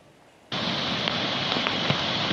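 Heavy rain from Typhoon Julian starts abruptly and pours steadily as a loud, dense hiss, with a few sharper splashes and knocks scattered through the downpour.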